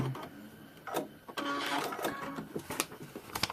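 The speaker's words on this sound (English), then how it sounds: "I'm going to sew off, watching that line, let my fabric drop, sew off, and cut my thread" A sewing machine stitches fabric on a paper-pieced prairie point trivet in short bursts of quick mechanical rattling. The bursts are separated by clicks and pauses as the thread is cut.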